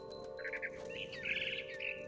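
A mother bird chirps in the video game What Remains of Edith Finch, a short run of bright tweets and twitters over a quiet game background with no talk.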